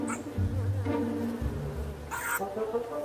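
A bee swarm buzzes in a steady, droning hum with fluctuating pitch, close and continuous, with no talking.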